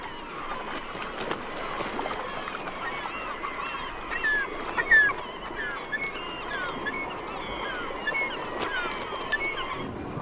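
Glaucous-winged gulls calling as they snatch live herring from shallow water, a chorus of overlapping squawks and cries at middle distance over a wash of water and background noise.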